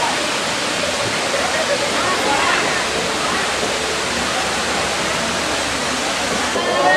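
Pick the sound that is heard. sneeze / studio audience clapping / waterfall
waterfall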